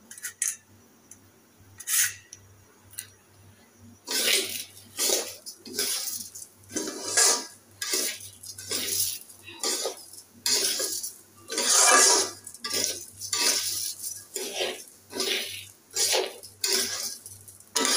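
Rice is stirred as it fries in a pot with bay leaf, cardamom and cinnamon, making rhythmic scraping and clinking strokes of a utensil against the metal, repeated steadily and close by.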